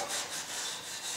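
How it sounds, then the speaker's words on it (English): Synthetic steel wool rubs down the surface of an aspen log for a rustic bunk bed, a soft, close, continuous scratchy swishing in gentle back-and-forth pulses. "Synthetic steel wool, and I'm just going to rub the whole thing down"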